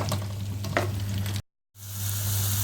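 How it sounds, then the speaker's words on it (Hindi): Tomatoes and masala sizzle and fry in a pan for egg biryani, a close steady crackle with a few stirring scrapes, cut off by a short silence before the frying resumes. "इसमें टमाटर और बाकी चीज़ें और मसाला जार डालेंगे और थोड़ा ब्राउन करेंगे 5 मिनट के लिए।"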